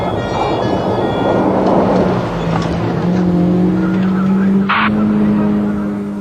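A stolen Rover car driven dangerously in a police chase, engine roaring steadily with a sustained tire squeal and skid rising over the loud continuous road noise.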